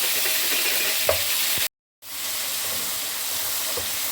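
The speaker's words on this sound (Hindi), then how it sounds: "हल्का सा फ्राई करने के बाद मैं 3 टेबलस्पून ऑयल में लहसुन अदरक का पेस्ट" Garlic ginger paste frying in about three tablespoons of oil, a steady close sizzle with occasional stirring clicks, cut by a brief silent gap before the hiss resumes.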